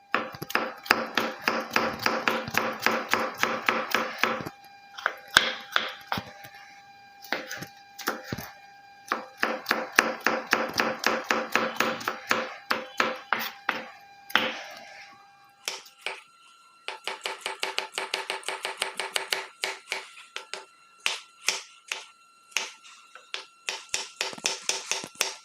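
A knife chops carrot into small pieces on a board, producing rapid rhythmic tapping in bursts separated by short pauses, close and crisp.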